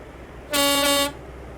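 A single loud, steady truck horn blast in Euro Truck Simulator 2 lasting about half a second, bright and brassy, over a quiet background.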